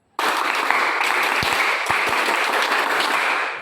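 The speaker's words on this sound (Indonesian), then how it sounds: "mari kita tepuk semangat yang dipimpin oleh Febrian" A classroom of students does a spirit clap, bursting into loud, dense clapping that starts abruptly and holds steady throughout, with a few sharp thumps mixed in.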